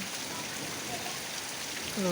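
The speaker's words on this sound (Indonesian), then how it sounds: "Tempat saya hujan deras" Heavy rain pours steadily in an even broadband hiss, close and continuous, with a voice starting to speak at the very end.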